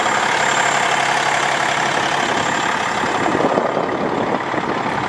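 A 2020 Peterbilt 567 truck engine idling, a loud, steady, close rumble with a broad, constant drone and no talking.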